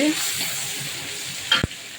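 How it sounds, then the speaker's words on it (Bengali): Hilsa fish frying with eggplant in a home kitchen, a steady close sizzle of oil with a short sharp clatter of stirring near the end. "ইলিশ মাছ বেগুন দিয়ে ভাজা"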